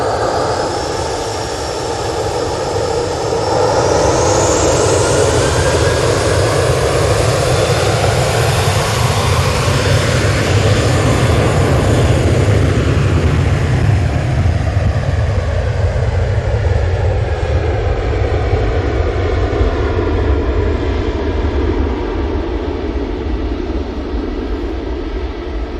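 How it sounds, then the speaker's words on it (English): A Ryanair airliner takes off from Manchester Airport bound for Oslo, its jet engines roaring loud and steady for the whole stretch, with the pitch slowly shifting as it climbs away. "That Ryanair is off to Oslo."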